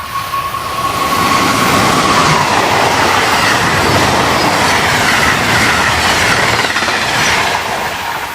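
An Amtrak train rolls past at Jersey Avenue, loud and close, its wheels with flat spots hammering in a rapid clickety-clack over the rails, with a faint squeal early on and no voices.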